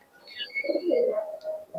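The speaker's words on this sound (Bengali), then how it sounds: "দেখুন এটা এলাহাবাদী কবুতর" An Allahabadi pigeon coos in a few soft, rolling notes close by, with faint chirps above them and no talking.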